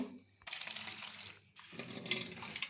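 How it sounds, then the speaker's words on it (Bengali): Rose petals being rinsed under running water in a kitchen sink, a close splashing gush that starts abruptly, breaks off briefly, then resumes with a brighter spray, no talking. "প্রথমে পাপড়িগুলোকে একবার একটু ভালো জলে ধুয়ে নেব"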